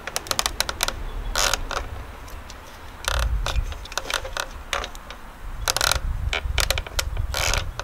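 A hand tool tightens the crank on a pedelec electric bicycle, giving bursts of sharp ratcheting clicks and metallic rattles in irregular spurts with brief pauses, close and fairly loud.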